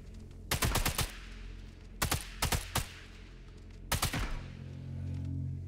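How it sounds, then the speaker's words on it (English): Gunshots ring out at a rifle range in Sniper Elite 5, coming in three quick clusters of sharp, loud cracks with a low steady hum between volleys. "It's a rifle range,"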